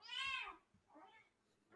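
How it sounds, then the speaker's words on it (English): A kitten meows in the background, two drawn-out cries followed by the start of a third, faint and somewhat distant in an otherwise quiet room. "Excuse my kitten in the background here."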